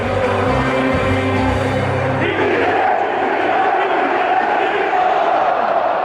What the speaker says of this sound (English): "Fly Eagles Fly," which generally ends with an E-A-G-L-E-S chant, which is very well known in the city of Philadelphia.